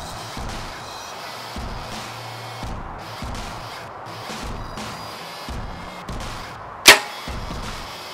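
An arrow shot from a bow at a steel deer target 60 yards away gives one sharp, loud crack near the end, standing out from a steady outdoor background with no talk.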